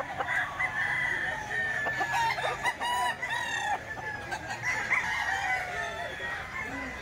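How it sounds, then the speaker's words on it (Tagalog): Several chickens cluck steadily while a rooster crows in the middle distance at a Sunday market, a busy, continuous farmyard chorus with no talking. "Ang daming manok dito."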